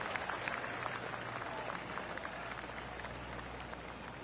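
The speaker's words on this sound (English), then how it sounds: "Oh, golf clap." Spectators applauding in the golf video game PGA Tour 2K25 on the par 4 14th hole, a steady broad patter of clapping that holds at an even level throughout with no talk.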